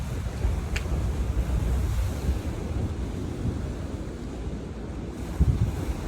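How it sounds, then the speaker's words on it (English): Heavy surf and spray on a Canary Island beach, a steady roar of breaking waves mixed with wind rumble across the microphone, with a brief sharp splash near the end. "I want to see the spray of the water walking."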